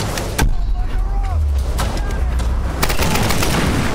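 Gunfire in Tomb Raider: Definitive Edition, several loud sharp shots scattered across the scene amid engine-like rumble and background game noise, with a voice talking over the action.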